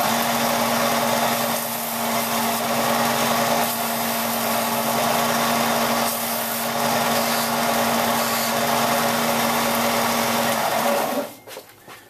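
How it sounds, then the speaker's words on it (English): A belt sander runs steadily on a DIY holster clip, a continuous loud whirring drone with a constant motor tone that holds for about eleven seconds before cutting off abruptly at the end. "So now I'm going to belt sand"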